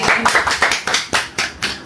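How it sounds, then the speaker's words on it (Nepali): A family claps hands together in a quick, fairly even rhythm of about eight close, sharp claps, loud and unaccompanied by talk. "ताली ल"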